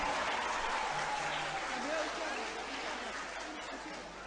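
A group of young female students at an Islamic boarding school applauds in a continuous wash of clapping, with voices speaking faintly beneath.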